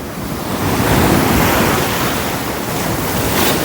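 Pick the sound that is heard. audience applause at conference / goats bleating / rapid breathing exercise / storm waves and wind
storm waves and wind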